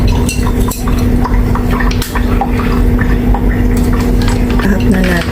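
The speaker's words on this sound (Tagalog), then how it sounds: "Lagyan na natin itong mustard tubers." Mustard tubers tossed into hot cooking oil in a pan and stirred, with a steady clatter of utensil on cookware, faint sizzle and dripping under continuous background noise and some talk.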